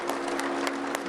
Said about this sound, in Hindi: सब बेटियों के लिए जोरदार ताली बजा दो